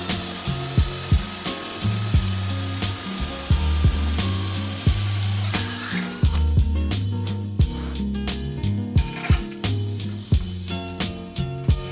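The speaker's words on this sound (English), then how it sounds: "I can drill the other one to the correct size" A power drill whirs in repeated bursts close up, broken by sharp regular clicks and knocks as the bit works through material.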